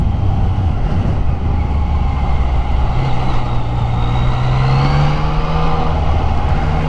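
An Audi car drives along a town street in Workington, its steady engine and road rumble filling the scene at close range, with a rising whine toward the end and no voices.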